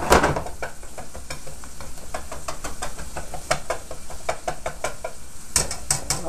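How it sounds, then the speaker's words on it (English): A flour-and-butter roux for a white sauce sizzles and bubbles steadily in a pan, with repeated sharp knocks and scrapes of a spoon stirring it; no talking. "my roux is nice and bubbly"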